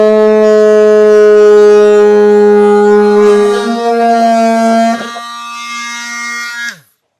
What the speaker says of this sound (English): We'll just cut there, and that piece will pop out. I'm using a multi-tool.